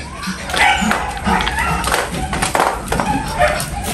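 A dog yips, whimpers and gives short chattering barks over and over at close range, sounding almost conversational, with a person talking at times underneath.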